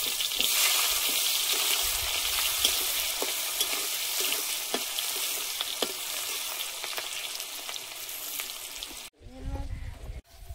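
Dried red chilli, nigella seeds and chopped onion fry in hot oil for a kohlrabi curry, a dense steady sizzle with light stirring clicks that suddenly drops away near the end, leaving a brief muffled low rumble.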